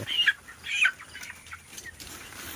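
Soft, scattered clucks and chirps from 21-day-old broiler chickens close by, a few short calls over a quiet background.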